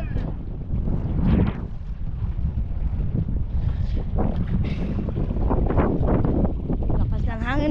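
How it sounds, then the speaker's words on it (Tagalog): Strong gusts of wind buffet the microphone in rough, roaring waves while people talk and shout nearby, with the sound of a boat in open air. "Lakas ng hangin mga idol"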